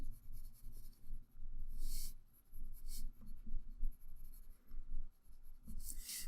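A pencil shades the underside of a drawn nose, soft scratchy graphite strokes rubbing back and forth across paper in uneven bursts, close and quiet, with no talking.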